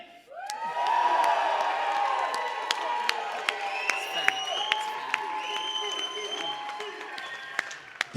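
A crowd at a rap battle cheers and applauds for Mrs. Green, a grandma rapper, with whoops and shouts rising over steady clapping that builds quickly and holds, punctuated by a few sharp claps.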